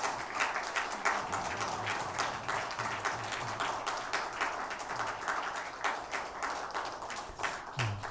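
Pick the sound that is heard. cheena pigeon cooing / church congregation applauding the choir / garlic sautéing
church congregation applauding the choir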